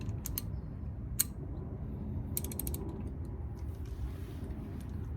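A wrench ratchets a nut loose on the stem of a Koni shock absorber for a C5 Corvette, giving a few sharp metallic clicks and short ratcheting bursts over a low steady background rumble.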